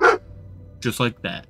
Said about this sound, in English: my dog might bark